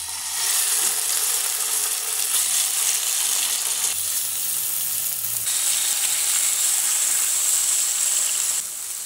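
Chicken coxinha sizzling as it browns in a frying pan, a loud, steady hiss of frying oil that continues unbroken without any talking.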